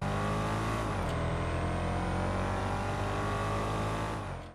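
A car engine in GTA Online starts up and settles into a loud, steady idle with a deep rumbling drone that holds evenly before cutting off abruptly at the end, no voices present.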